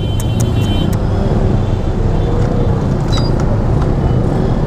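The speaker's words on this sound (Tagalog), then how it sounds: "Nagkabuhol-buhol na yung traffic dito guys." Steady, close road noise from traffic jammed together on a Philippine road, a continuous low rumble of idling and creeping vehicles with faint higher clicks and a brief squeal, with no talk.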